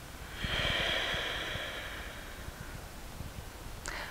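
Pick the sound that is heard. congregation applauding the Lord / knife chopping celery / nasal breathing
nasal breathing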